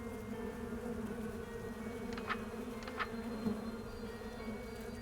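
Flies buzz in the horror video game Sucker For Love: Date to Die For, a steady, close droning hum with a few brief sharper whines rising above it, with no talking.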